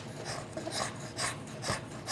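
Steady rasping strokes, about five in a row, as bark is scraped off the back of a hickory self bow, close and fairly loud with an even back-and-forth rhythm.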